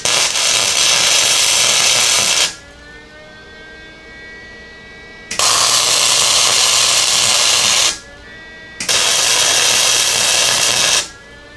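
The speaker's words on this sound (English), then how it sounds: "I'm going to get the welder all set up. I'm going to tack this into place, not fully weld it" Three long bursts of harsh, steady crackle from a welder tacking a lift bracket onto a 1978 Jeep J10 frame, each lasting two to three seconds, with a quieter machine hum in the gaps between them.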